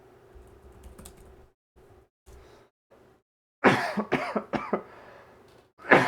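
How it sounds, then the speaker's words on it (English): A quiet stretch of keyboard typing, then a burst of several harsh, close coughs, with one more cough right at the end. "sorry about all the coughing."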